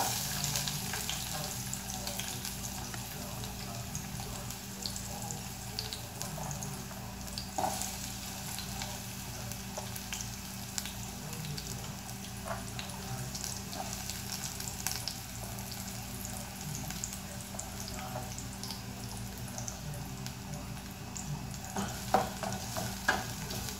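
Chopped onion fries in a pan as the base of a fresh tomato sauce for macaroni, producing a soft, continuous sizzle with faint stirring scrapes throughout and no voices.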